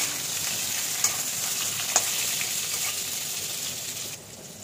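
Eggplant fries in a pan with a loud, steady, close sizzle, a couple of brief clicks, and the hiss dropping away at the end.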